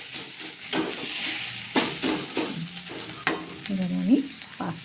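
Tomatoes fry and sizzle in a hot kadai, the steady crackle broken by several sharp stirring scrapes and clatters of a spoon against the pan, close and fairly loud with no talking.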